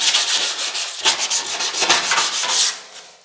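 Steady abrasive rubbing of sandpaper on a sheet metal panel, repeated back-and-forth strokes, close and fairly loud, easing off at the end.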